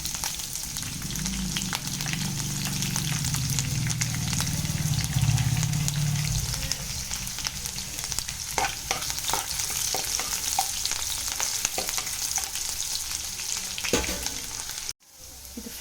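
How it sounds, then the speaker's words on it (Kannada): Curry leaves and green chillies fry in hot oil with a steady, loud crackling sizzle throughout, a short break near the end, and no voices. "ಎಣ್ಣೆ ಕಾದಿದೆ. ಈಗ ಕರಿಬೇವು ಸೊಪ್ಪು ಹಾಕೋಣ. ಸ್ವಲ್ಪ ಹಸಿಮೆಣಸಿನಕಾಯಿ ಕೂಡ ಹಾಕೋಣ."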